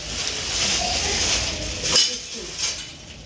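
Kitchen pots and steel vessels clink and clatter as they are handled, with one sharper metallic clang midway, partly under nearby voices.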